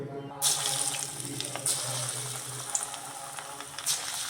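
Pakoda fritters fry in hot oil with a close, crackling sizzle broken by sharp bursts of spatter over a steady hiss.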